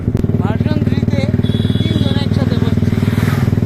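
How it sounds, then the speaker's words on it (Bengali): Motorcycle engine putters steadily with rapid, even pulses close by, while a person talks over it. "এই যে বাইক চালাইতেছে"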